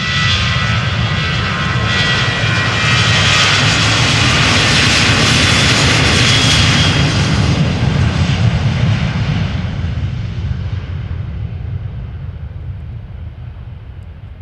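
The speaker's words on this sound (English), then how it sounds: "Transavia 737-700 taking off to Riga." A Transavia Boeing 737-700 takes off from Schiphol toward Riga, jet engines swelling into a loud nearby roar with a high whine, then gradually receding into a softer rumble.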